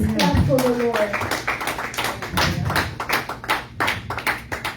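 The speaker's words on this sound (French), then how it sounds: "Est-ce qu'on peut applaudir pour le Seigneur?" Congregation clapping together at a church service, a dense burst of hand claps filling the space, with a voice at the start.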